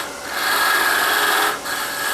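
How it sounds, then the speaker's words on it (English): A wood lathe makes a peeling cut with a tool to reduce the diameter of a turned ornament ball: a steady, close, raspy shearing whine with a faint motor tone, dipping briefly near the end before resuming. "So I know what it, again, I'm going to do a peeling cut."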